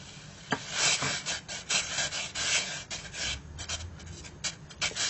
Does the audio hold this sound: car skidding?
no